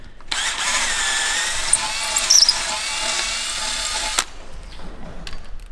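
A drill bores through metal on a Nissan Skyline car being converted from automatic to manual, a loud sustained grinding whine running about four seconds with a sharp bite near its end before cutting off to quiet.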